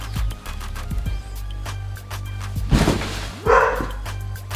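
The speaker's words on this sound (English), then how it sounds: "It doesn't work with the dog barking in the background" A dog barks several times in the background of an outdoor amateur film shoot, sharp, fairly loud yaps spaced irregularly over a steady low hum, with a couple of thumps mixed in.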